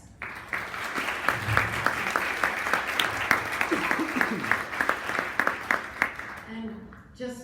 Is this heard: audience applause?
yes